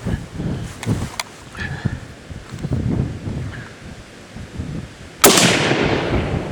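A 7.62x54R rifle fires a single sharp, loud shot near the end, following several fainter earlier pops and thumps amid outdoor rustle and wind.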